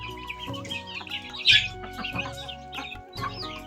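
Chickens cluck close by, several overlapping calls in a busy, continuous stream with one louder squawk partway through.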